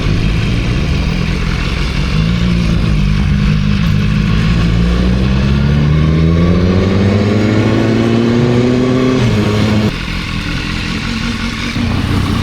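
A BMW S1000R motorcycle revs hard during a burnout, its loud engine climbing steadily in pitch over several seconds before dropping off abruptly, close and continuous with no talk.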